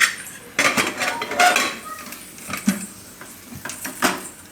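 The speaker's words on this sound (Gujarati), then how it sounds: "કુકરનું ઢાંકણું બંધ કરી દે." A pressure cooker lid being closed over corn and potato curry, with several close metallic clanks and scrapes of the lid and pot in quick bursts.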